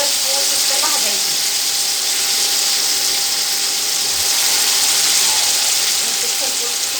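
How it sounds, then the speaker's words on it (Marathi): Potatoes frying in oil for sabudana khichdi, a continuous loud hissing sizzle with faint scraping, steady and close. "सगळे बटाटे घालून घ्यायचे तेलामध्ये आणि चांगले खरपूस तिथं भाजायचे"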